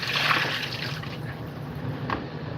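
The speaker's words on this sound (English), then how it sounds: "Wash these potatoes, okay?" Running water trickles and splashes at moderate distance as potatoes are rinsed in a kitchen, a steady liquid wash with a brief louder splash near the end.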